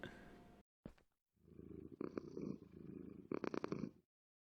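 A kitten purrs in the video game Minecraft, a close, soft, rumbling purr that runs in a few sustained bursts, with a brief pause partway through.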